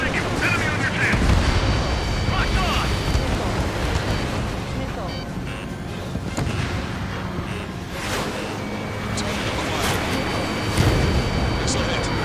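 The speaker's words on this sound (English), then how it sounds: "Missile hit." Missile striking its target and exploding in the combat flight game Ace Combat 7: Skies Unknown, with dense, continuous jet roar and rumbling booms throughout, loud and unbroken.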